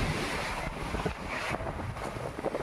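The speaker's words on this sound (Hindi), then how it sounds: "यहाँ पे इतना तेज तूफान है कि मैं आपको क्या बताऊँ, हर चीज उड़ रही है।" Strong storm wind blows hard, buffeting the microphone with a loud, rough, gusty roar that rises and falls over a few seconds, with no voices.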